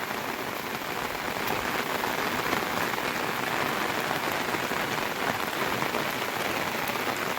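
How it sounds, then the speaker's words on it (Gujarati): Steady downpour in the Gir forest patters on a surface, a dense, even hiss of drops that holds constant throughout. "વરસાદ ચાલુ છે"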